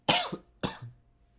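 Two sharp, close coughs about half a second apart, each with a short raspy tail, then quiet.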